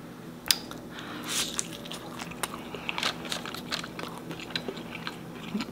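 Birria taco dipped in beef consomme being bitten and chewed up close, with wet squishes and soft crunches repeating over a steady background hum.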